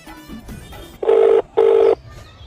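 Two steady, buzzing telephone ring bursts, each about a third of a second long, separated by a short pause, over faint background noise.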